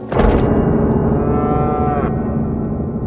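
A carabao, the water buffalo of a farm lane, lets out one loud, drawn-out bellow that starts abruptly and holds steady for about three seconds, with no voices.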